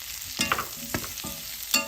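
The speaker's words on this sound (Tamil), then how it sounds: "ஃபஸ்ட்டு வெங்காயத்தை வந்து ரெண்டு வதக்க வதக்கினா போதும் ரொம்ப வதக்கணும் அவசியம் இல்லை இப்போ வந்து கலர்டு கேப்சிகம் போடுறேன்" Onions and colored capsicum sauté in a pan for fried rice and chili paneer, with a soft steady sizzle broken by several sharp scrapes and clacks of a spoon stirring, close up and fairly quiet.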